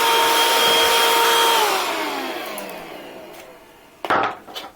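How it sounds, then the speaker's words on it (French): Bosch EasyVac 12 cordless vacuum cleaner on a workbench: a loud close motor whine that winds down in pitch and fades over a couple of seconds, followed by a brief clatter and knock near the end. "si je veux aspirer mon établi"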